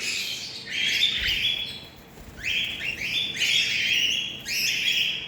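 Pet birds chirp on an apartment balcony, with close, bright bursts of rapid high tweets coming in repeated clusters and short pauses between them.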